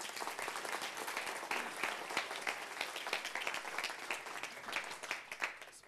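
An audience claps to welcome a guest on a French television programme, a continuous even patter of hands at moderate volume.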